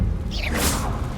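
Confringo, a fire-blast spell, is cast in Hogwarts Legacy: a short whooshing swish that rises in the middle of the burst, with a soft thud over a steady low game rumble.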